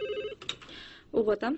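A telephone rings indoors in a Kyrgyz-language drama scene: a short electronic ring, then overlapping voices talking over it.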